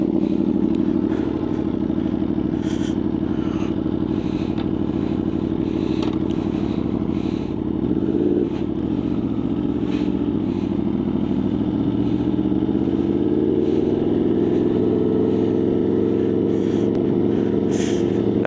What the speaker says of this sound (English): Now that's a Leo Vinci pipe. It's basically a straight pipe right now.